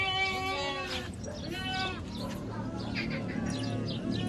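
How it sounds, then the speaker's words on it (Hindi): Flock of sheep and goats arriving, several overlapping bleats, some near and some farther off, with birds chirping and voices murmuring in the background. "भेड़ बकरियां आ गई"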